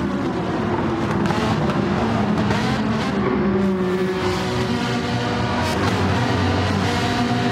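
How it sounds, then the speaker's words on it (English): Race car engines in a video game roar steadily and loudly, a dense wall of high-revving motor noise with shifting pitch as cars pass, no pauses throughout. "The sound of these cars, it sounds incredible actually."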